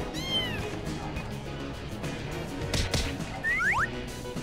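A cat meows a few times, short and fairly close, over a busy background of music and cartoon effects.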